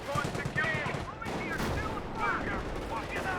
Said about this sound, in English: Grenadiers with STGs firing away